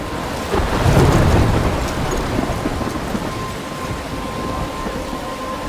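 Thunderstorm with rain in the video game Life Is Strange: a loud rumble of thunder swells early and fades while steady rain hisses throughout, with no voices.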